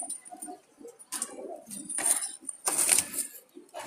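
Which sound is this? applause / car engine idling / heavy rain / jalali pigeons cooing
jalali pigeons cooing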